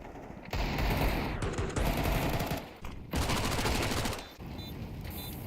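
Rapid bursts of pistol and automatic gunfire during a Counter-Strike esports match at IEM Sydney 2023, loud and close, with sustained volleys broken by short pauses and overlapping shots.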